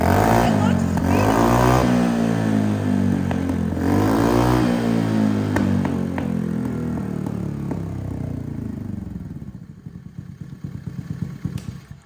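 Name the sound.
Honda Navi engine revving with performance exhaust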